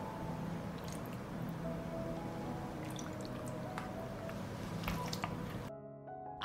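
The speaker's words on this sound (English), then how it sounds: "I also pour the remaining juice into the jars." Leftover juice is poured into glass jars, a quiet trickle with scattered drips and splashes over a soft, steady background hum, cutting off abruptly near the end.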